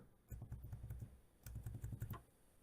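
Password being typed on a computer keyboard: two quick runs of soft, close key clicks, separated by a short pause, fairly quiet and with no talk.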